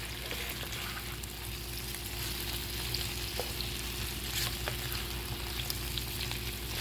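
Shrimp sizzling in a pan for a scampi, a dense, even frying hiss holding steady throughout with faint occasional pops, close up and without any voices.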